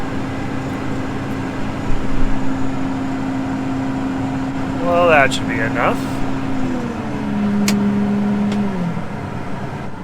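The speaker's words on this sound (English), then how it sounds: "I might run just a little bit more through the auger just to make sure it's getting flushed then" A grain auger runs steadily, flushing wheat out of a farm setting, a constant droning hum with a shifting pitch partway through; someone speaks briefly over it, and a lower tone changes near the end.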